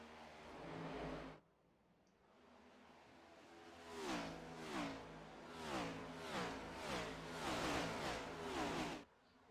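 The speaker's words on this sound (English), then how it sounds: "You hear the backfire out of the cars." Race cars at a NASCAR race at Michigan roar past in a series of rising and falling engine passes, several cars in close succession sweeping by at moderate distance with a rhythmic revving pulse.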